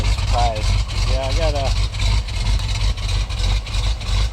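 A 1977 Jeep Cherokee Super Chief idles after a cold start, a steady low rumble of engine and exhaust running continuously near the listener, with a voice briefly talking over it early on.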